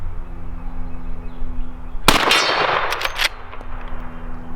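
A single sharp, loud shot from a Henry Model X rifle firing .357 Magnum, followed by quick metallic rings off a steel silhouette target, cuts through a quiet outdoor background hum.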